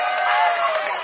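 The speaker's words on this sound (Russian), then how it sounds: "Зрители аплодируют, все улыбаются," A studio audience at a hip-hop dance battle cheers and whoops, a brief loud burst of crowd noise with voices rising over it.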